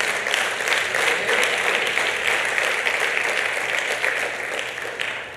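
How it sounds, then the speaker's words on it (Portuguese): A church congregation gives a sustained round of applause during a baptism service, the clapping broad and even, loud at first and easing slightly toward the end. "vamos dar uma salva de palmas para o Senhor Jesus Cristo"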